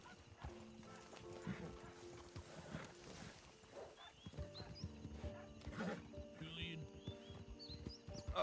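Horse hooves clip-clopping along at a run in the RedM roleplay game (Red Dead Redemption 2), with whinnies and a dog barking nearby, over a steady outdoor ambience.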